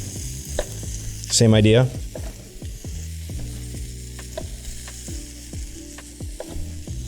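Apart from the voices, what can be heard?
okra and peppers sizzling in a hot pan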